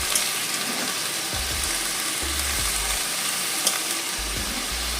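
Dalia fries in butter with a constant close sizzle and soft stirring scrapes, plus a few low thumps from the pan; no voices.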